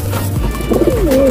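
Pigeons coo close by in low, throaty rolling calls, a couple of bubbling phrases over a steady low background hum.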